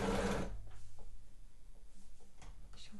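An overlocker runs along the neckline of a sweatshirt, its fast, even stitching rhythm carrying on steadily after a brief louder burst at the start.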